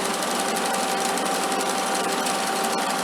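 Belt-driven sickle mower running fast, a loud, dense mechanical clatter and rattle with a steady engine drone, continuous and close for the whole stretch.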